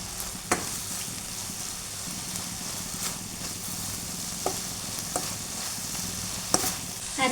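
Veg momo filling with chili sauce and lemon juice stirred and mixed in a hot pan, a steady sizzling hiss with a few sharp utensil clicks against the pan, close and without talk.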